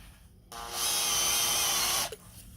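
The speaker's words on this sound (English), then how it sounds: "we'll run clockwise again. So you want a reversible drill" A reversible drill running clockwise to drive a bolt reinforcing a welded arm: a sudden close, loud motor whir holds steady for about a second and a half, then cuts off abruptly.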